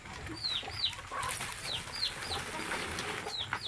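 Hens trapped in a bucket make faint, quick, high clucks and chirps several times over a steady background murmur.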